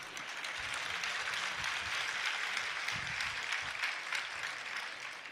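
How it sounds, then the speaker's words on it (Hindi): An audience at a Jain religious discourse in Jabalpur applauds steadily for several seconds. The clapping is a dense, even patter that fills the hall with no pauses and no voices. "धीरे धीरे तालियां बज रही है।"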